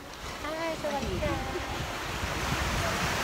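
Ocean waves at Cabongaoan Beach in Burgos, Pangasinan, a constant rushing wash of surf with wind noise, and a few faint bird-like chirps early on.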